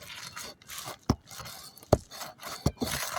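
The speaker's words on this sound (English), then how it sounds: "we're going to get underneath with our separation tool. And we're just going to gently pop it from the fasteners" A separation tool pries a plastic trim panel off its fasteners, producing quiet rubbing and scraping broken by three or four sharp pops as the clips release, close by with no talk.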